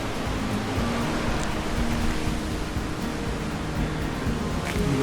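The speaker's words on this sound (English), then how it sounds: "You may hear the river down below." A river rushes steadily somewhere below a damaged mountain highway near Tryon and Saluda, North Carolina, a constant broad noise of flowing water heard from a distance with no voices.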